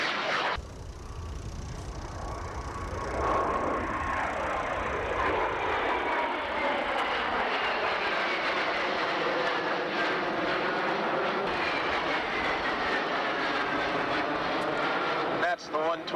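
Jet fighter roaring past at a military airshow, with 25,000 pounds of thrust, a loud sustained engine rush whose pitch sweeps downward as it passes, with brief announcer talk.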